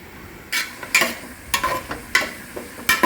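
Chicken tossed with chili, coriander, pepper and turmeric powders over sautéed onions in a pan for a simple chicken curry: rhythmic loud scraping stirs about every half second over a steady sizzle, close up.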